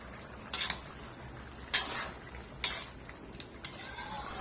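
Metal spoon scraping and clinking against a pot of pork menudo simmering in sauce, a few sharp separate strokes over a soft background hiss.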